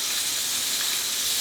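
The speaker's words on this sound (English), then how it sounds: "frying deer meat and stuff like that" Deer cube steak frying in hot oil, a steady, fairly loud sizzling hiss that holds even and unbroken throughout, with no talking.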